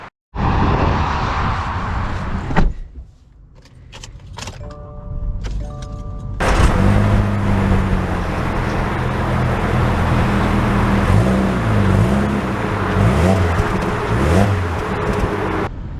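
A 2024 Subaru Impreza pulls away and accelerates, its engine droning and rising in pitch close by, with steady road and tire noise building behind it and no talking.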